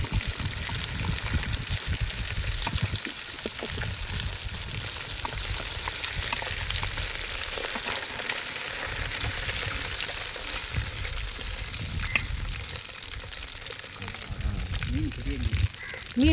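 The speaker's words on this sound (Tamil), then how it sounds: "மீன் நல்லா பொரிஞ்சிருச்சு" Snakehead fish frying in hot oil, a steady dense sizzle and crackle that runs throughout, with occasional spoon scrapes and soft voices in the background.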